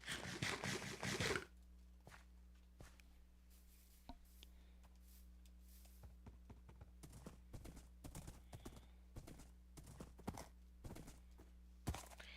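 Horse hooves clip-clop steadily in a video game, a series of sharp close footfalls over a low steady hum, after a brief louder burst at the start.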